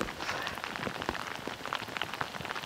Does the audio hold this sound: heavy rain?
yes